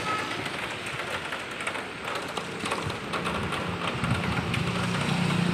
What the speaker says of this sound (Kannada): ನೋಡಿ ಎಷ್ಟು ಮಳೆ ನೋಡಿ ಇದೆಲ್ಲ ನೀರು ಎಷ್ಟೊಂದು ನೀರಿದೆ